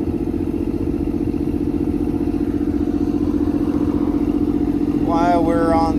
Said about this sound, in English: No problem, the pump's doing good.